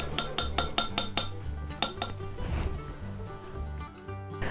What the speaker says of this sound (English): you always want to stir your starter really well to get a lot of air in there